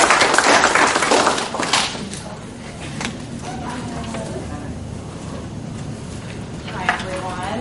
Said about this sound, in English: Let's give her a round of applause and give the warm welcome.